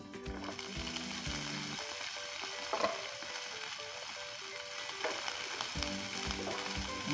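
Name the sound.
broccoli and vegetables frying in a pan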